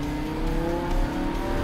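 Lamborghini Huracan with a V10 engine driving on country roads near Tours, a steady, loud engine drone holding an even pitch with a slight swell, no talk.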